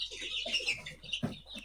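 A chicken gives a few soft, short clucks in a quick burst lasting under two seconds, faint and close with no other sound standing out.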